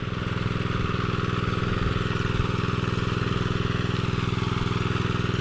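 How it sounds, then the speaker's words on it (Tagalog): A deep well pump engine idling at low throttle throbs in a steady, even chug, close and continuous with no voices. "So nakaminor lang yung makina niyan mga katrops."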